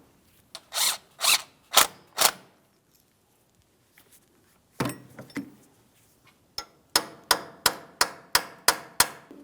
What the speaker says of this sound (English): Just a couple light taps on the area with that small tab